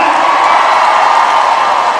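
A rally crowd at a Pheu Thai political event in Thailand, a loud, continuous wash of cheering and clapping that stays steady throughout the short stretch.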